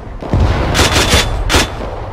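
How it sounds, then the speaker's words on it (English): A Mark 19 grenade launcher in Arma 3 strafes a tree line with loud, close bursts of heavy automatic fire, about three distinct volleys over two seconds. "I'm strafing the tree line with Mark 19"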